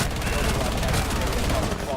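Submachine gun fire in Rainbow Six Siege rattles in a dense, continuous stream of rapid shots, loud and close throughout, blended with other game noise.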